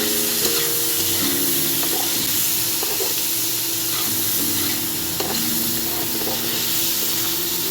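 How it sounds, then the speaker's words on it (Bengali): Washed potato pieces with turmeric fry in a pan, a strong, close sizzle with stirring scrapes running throughout and no one speaking. "আলুগুলো দিয়ে দেবো। কালারের জন্য হলুদ দিয়ে দিচ্ছি। এটা আমি ভেজে নেব।"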